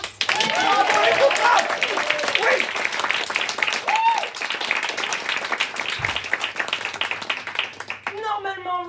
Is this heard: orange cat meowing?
no